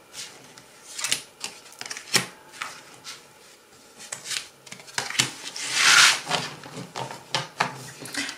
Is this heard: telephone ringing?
no